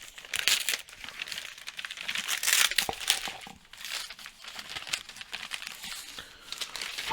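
Padded plastic packaging around comic books being unwrapped: steady close crinkling and crumpling with brief tearing rustles throughout, no talk.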